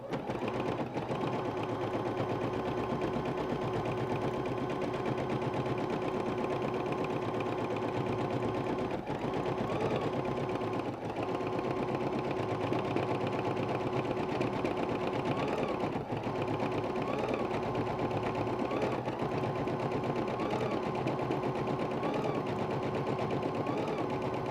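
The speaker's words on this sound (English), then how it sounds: "So with that set, I'm going to start stitching on the machine." An embroidery machine runs a basting stitch along a table runner, giving a steady, continuous mechanical whir and rapid needle chatter that holds at an even level from start to finish, with no talking.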